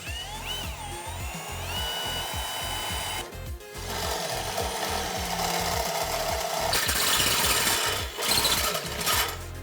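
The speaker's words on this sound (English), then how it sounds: "drill out the hole on this template. We're going to start with a small drill bit and then go to a 5/8." A small drill bit bores a hole through a metal template during a 2010-2014 Ford F-150 Raptor suspension lift install, giving a steady, close, grinding whine with a few brief pauses and shifts in pitch.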